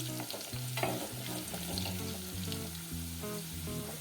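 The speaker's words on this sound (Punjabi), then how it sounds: "4-5 ਮਿੰਟ ਤੱਕ ਇਹਨਾਂ ਨੂੰ ਚੰਗੀ ਤਰ੍ਹਾਂ ਚੰਗੀ ਤਰ੍ਹਾਂ ਗਲ ਆਪਾਂ ਹਿਲਾਉਂਦੇ ਵੀ ਰਵਾਂਗੇ ਤੇ ਤੇਲ ਦੇ ਵਿੱਚ ਆਪਾਂ ਇਹਨਾਂ ਨੂੰ ਭੁੰਨਦੇ ਵੀ ਰਵਾਂਗੇ" Amla (Indian gooseberries) fry in oil while being stirred for pickle, making a steady close sizzle with repeated scraping and clinking of the spoon against the pan throughout.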